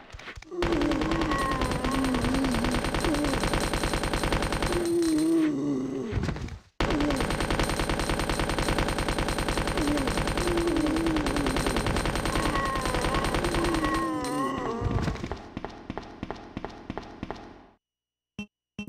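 Rapid, rhythmic gunfire in Resident Evil 2, a long near-continuous burst of loud close shots that breaks briefly, resumes, then thins into a few spaced final shots before falling silent.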